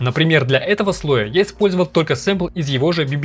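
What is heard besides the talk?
None of the usual background noises is heard.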